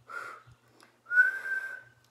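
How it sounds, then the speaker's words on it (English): A person whistles two short tones, a brief note followed after a pause by a longer, slightly rising one, close and clear against silence. "You tried to whistle."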